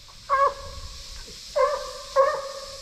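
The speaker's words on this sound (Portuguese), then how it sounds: "os cachorros já achou o rastro no mato agora" Hunting dogs on a wild boar trail in the brush give three sharp barks, one after another, at moderate distance over a low background rumble.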